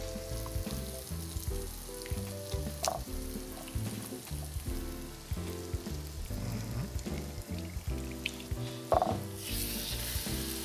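Quiet sizzling from cherry and cream cheese stuffed French toast frying on a griddle, a soft continuous crackle running under a stepping background melody.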